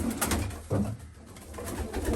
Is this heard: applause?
no